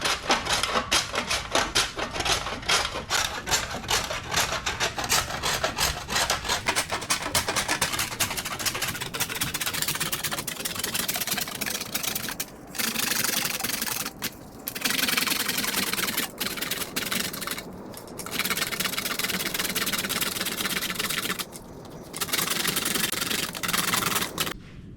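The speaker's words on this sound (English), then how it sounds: "Just take your wax block, grade it through the grater till you get your fines." A block of wax being grated through a grater to make fines for waxed trapping dirt, giving a steady, close, continuous rasping scrape with brief pauses between strokes and no talking.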